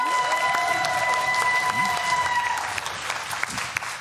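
A live studio audience at the German TV quiz show Wer weiß denn sowas? claps and cheers in a dense, steady burst of applause that holds loud for a few seconds, then thins slightly toward the end.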